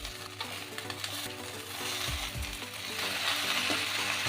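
Malabar spinach curry with chopped vegetables being stirred in a hot pan, giving a close, continuous sizzle with soft scraping and clinks of the spoon that grow a little louder toward the end, with no talk.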